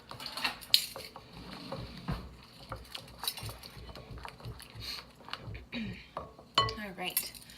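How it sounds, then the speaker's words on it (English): A wooden spoon stirring banana bread batter in a bowl, giving soft irregular scrapes and knocks with occasional sharper clinks, quiet and close. "I'm just going to use a wooden spoon so I don't have to dirty any more dishes"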